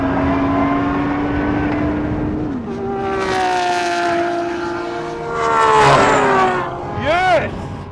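A Porsche 911 Turbo S and a Ferrari 812 Superfast race past in a drag race, with engine roars rising and shifting pitch as the cars pass close by, mixed with excited voices.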